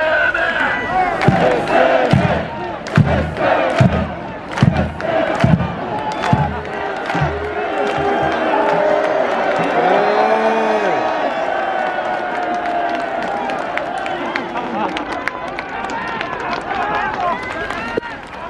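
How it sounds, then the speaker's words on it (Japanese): Stadium crowd at a Montedio Yamagata versus Fujieda MYFC football match claps in loud rhythmic bursts with chanting, then swells into a sustained roar of applause and voices. "素晴らしい選手たちにもう一度拍手をあげてください。"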